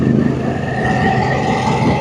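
A Harley-Davidson Pan America motorcycle engine while riding, a steady, fairly loud drone with wind rush and a sustained hum, no talking.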